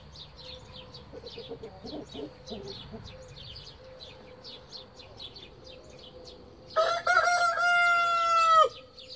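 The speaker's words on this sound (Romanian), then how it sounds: "Ghiță, fă Cucurigu" A Brahma rooster crows once, loud and close, a long harmonic call rising and holding near the end, after a stretch of quieter clucking and chirping birds in a hen yard.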